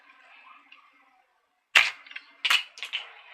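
A bow made from PVC pipe shoots an arrow: after a quiet stretch comes a sharp loud snap and thwack, followed by a few quick rattling knocks close by.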